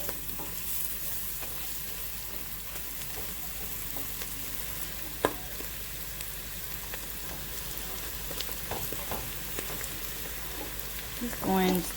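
Spaghetti squash cooks in a hot pan with a soft, constant sizzle and occasional scrapes as it is stirred, fairly quiet and close, with a brief louder clatter near the end.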